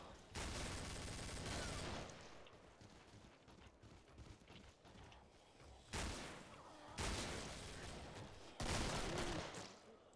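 Pistol gunfire in the video game Killing Floor, loud bursts of rapid shots at the start and again in several close clusters near the end, with quieter game noise between them.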